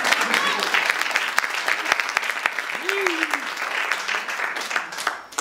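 An audience at a talk applauds in a dense, even burst of clapping, with a voice briefly heard over it midway.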